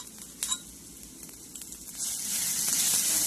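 Crushed spice paste drops into fried onions in hot oil, giving a few soft splats before a steady, close sizzle swells and holds for the last second.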